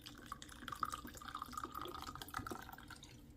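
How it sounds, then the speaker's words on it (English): Vodka poured over lemons in a jar to make lemon extract gives a soft, steady trickle and gurgle of liquid, quiet and close, lasting a few seconds without speech. "we're going to fill this with vodka"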